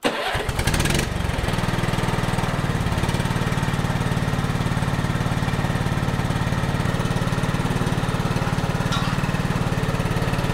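An 1980s Honda 3011 riding mower cranks briefly, catches and settles into a loud, steady engine run at close range, with no talk over it.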